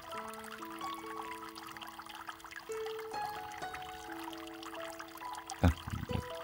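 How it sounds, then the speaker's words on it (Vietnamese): Water trickling and pouring in a homemade plastic-bottle aquarium with a perpetual-flow setup, a soft continuous babble with a brief louder splash near the end. "nghe tiếng nước chảy róc rách cũng rất là êm tai"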